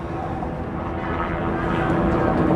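News helicopters flying overhead during May Day marches in Seattle, a dense, steady rotor and engine rumble that fills the scene loudly and evenly from start to end.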